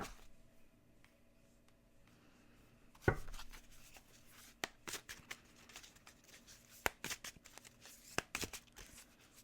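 Tarot cards shuffled by hand, a large deck mixed in crisp, irregular riffles and slaps after a quiet start, close and fairly soft, with no talking.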